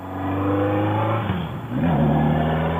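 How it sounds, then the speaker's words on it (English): A motorcycle engine with a bad ignition coil for plugs 2 and 3 revs steadily, its pitch rising and dipping midway before climbing again, loud and close throughout. "I had to keep revving the bike so it won't cut off."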